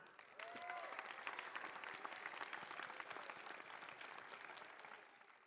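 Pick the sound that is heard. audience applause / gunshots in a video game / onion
audience applause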